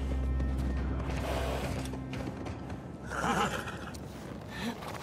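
In The Last of Us Part 2, a horse gives a loud neigh over a low rumbling game background, with hoof clatter and movement noise following and a brief rise in sound near the middle.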